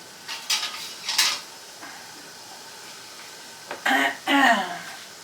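Glass canning jars of apple butter knocked and shifted on a metal rack in a boiling canning pot, giving a few bright clinks and clatters over a steady low hiss.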